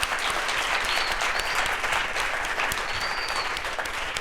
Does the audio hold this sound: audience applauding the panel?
yes